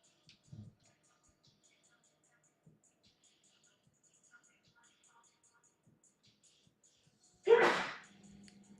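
A single loud sneeze bursts out near the end of an otherwise quiet stretch, alone and close, with a few faint ticks and a small thump earlier.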